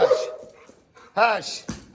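A dog barks sharply a couple of times and yips, close by, with a person's voice speaking briefly before the barks.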